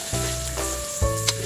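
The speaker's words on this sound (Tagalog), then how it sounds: "Ito guys ay kaunting prito lang" Carrots frying in a pan, a steady close sizzle that swells and crackles briefly as the pieces shift, with no talking.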